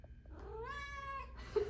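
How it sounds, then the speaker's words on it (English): A cat gives one drawn-out, rising-then-falling meow close by, followed by a brief softer chirp, with no talking. "There's a cat."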